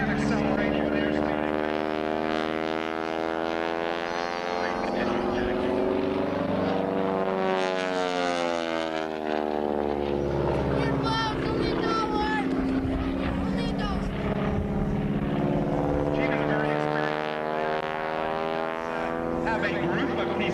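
A propeller aircraft flies aerobatic maneuvers at an air show, its engine drone rising and falling in pitch as it passes while a commentator talks over it continuously.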